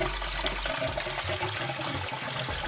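Coolant drains from a car radiator into a pan, a steady splashing, rushing pour of liquid heard up close and continuous throughout.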